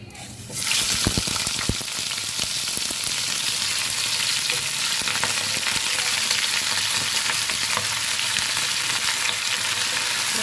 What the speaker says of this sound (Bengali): প্যানের মধ্যে ধুয়ে রাখা চিকেনগুলো দিয়ে দেবো